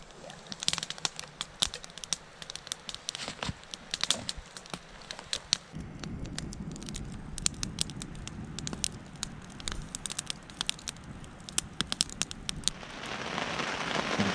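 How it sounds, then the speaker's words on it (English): Heavy rain drums on a backpacking tent in Montana's Mission Mountains, a dense steady patter with sharp drop hits, growing fuller partway through and close around the listener. "This rain started as a light sprinkle last night and has developed into a very heavy rainstorm that hasn't let up"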